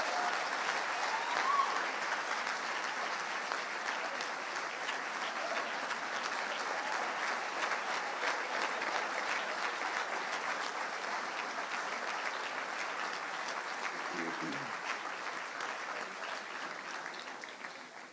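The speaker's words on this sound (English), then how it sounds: "How about one more round of applause?" A hall of fame induction crowd at Boston University keeps up a long, even round of clapping, soft and somewhat distant, a dense patter that holds for the whole span and tapers slightly at the end.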